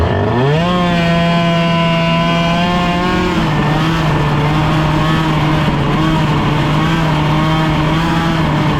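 An Airsal Nitro 50 engine fitted with a PHBG 20 carburetor runs loud and close, its buzzing two-stroke note rising quickly at the start and then holding a steady high idle with a slight dip partway through.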